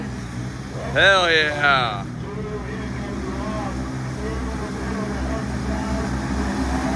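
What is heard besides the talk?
vehicle engine revving while mud bogging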